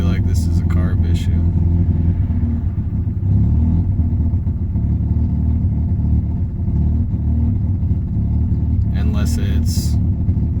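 A Mazda GSL with a rotary engine, suspected of a carburetor problem, runs at a steady idle with a loud, continuous low rumble and slight roughness, and a few brief higher clicks near the start and end.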